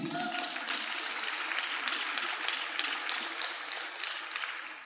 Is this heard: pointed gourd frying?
no